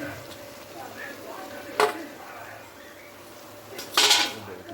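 A spoon scrapes and clinks against a pan while prawns are stirred into boiled bottle gourd: two sharp metallic knocks stand out over soft, quiet stirring.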